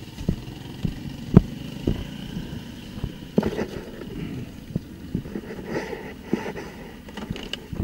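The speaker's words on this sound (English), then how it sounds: "So put it in first, and start driving a little bit here." A 1987 Honda TRX200SX ATV pulling away in first gear, its small engine puttering unevenly at low speed with clattering knocks and bumps, fairly close and with no talk.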